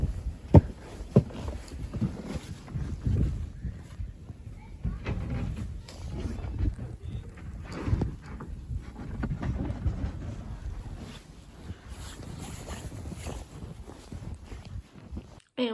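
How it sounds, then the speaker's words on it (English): Strong wind gusting through a Canadian snowstorm, blowing snow around a deck, heard as a rough, buffeting roar with bursts of wind noise on the microphone. "it's so windy today. So the snow is blowing everywhere."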